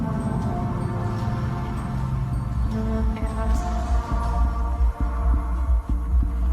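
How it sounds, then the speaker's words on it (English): A deep, steady heart-pounding thump throbs through a creepy, eerie soundscape with a low hum, continuing at a regular pulse under dark ambient tones. "A new sound enters into the mix, like a heart pounding."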